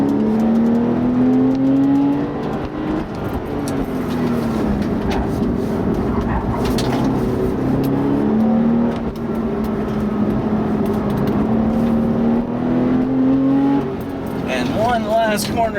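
A Porsche 911 driven hard through corners, its engine revving loudly and steadily with rising and falling pitch as it climbs and eases through gears, heard from inside the car with faint voices underneath.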